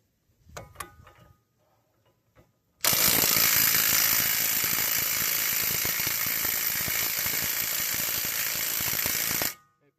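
The center CV axle nut on a Dodge Grand Caravan is being removed with a tool that runs as one long, steady, loud mechanical whir for several seconds, close by, after a few brief knocks and handling noises.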